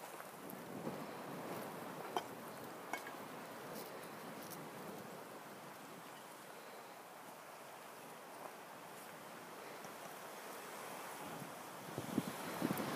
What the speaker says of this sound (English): Looking at a heavy headwind.